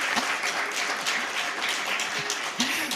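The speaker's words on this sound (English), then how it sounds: "I think we can give them a nice round of applause." Steady applause from an audience at a county supervisor candidate forum fills the whole stretch, a dense, even wash of many hands clapping with no break.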